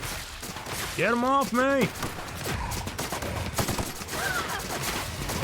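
Gunfire from weapons in The Outer Worlds video game, a few scattered shots under a shouting voice and a loud harmonic cry, with game noise continuing afterward.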